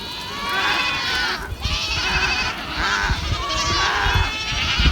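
A goat bleats loudly and close by, several long wavering calls one after another in the countryside of Chile, with short breaks between them.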